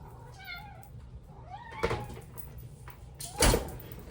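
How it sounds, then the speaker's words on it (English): Cats meow at home, hoping for canned food: several short mews, then two loud thumps like a door or cupboard closing nearby, with no talking. "here's where the cats are gonna come"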